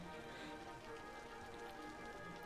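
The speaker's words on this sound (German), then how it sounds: "Es regnet." Rain falls in the city-building video game Cities: Skylines, a constant even wash of patter with no breaks, fairly quiet and heard alone without speech.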